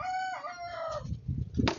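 A rooster crows loudly and close by, its long harmonic call filling the first second, followed by clucking and rustling fowl noises.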